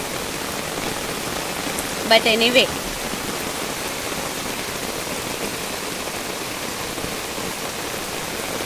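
Heavy rain falls over a village as a steady, continuous wash of downpour noise throughout, with a brief spoken phrase near the start.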